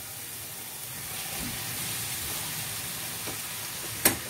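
Steady sizzling of potato pieces frying in a pan of tomato masala, with soft scraping and stirring sounds and a brief louder clatter near the end.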